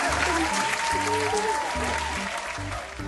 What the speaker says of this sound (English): Show them how to clap your hands.